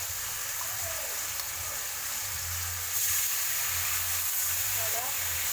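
Water is poured into a hot pan of browning pork belly, and a steady, bright sizzle and hiss fill the clip, swelling briefly midway.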